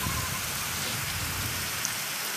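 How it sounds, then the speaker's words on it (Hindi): Light rain falling outdoors on a gloomy, darkened day, a steady soft hiss of drops pattering on surfaces, even and continuous with no voices. "यहाँ पे हल्की हल्की सी बारिश हो रही है"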